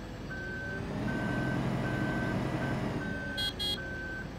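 A vehicle warning beeper in Farming Simulator 15 sounds a steady series of evenly spaced beeps over a constant low engine rumble, with a brief burst of higher chirps near the end.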